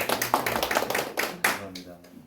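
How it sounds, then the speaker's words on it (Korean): Clapping from a church congregation at a Sunday worship service, thanking a retired pastor; a run of quick, uneven claps close by, mixed with talking voices throughout. "박수 한번."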